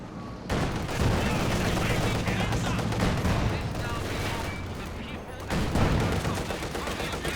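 Rapid machine-gun fire and dense battle noise fill a Company of Heroes 2 match, a steady loud fusillade with a brief lull before bursts resume, under a commentator's voice.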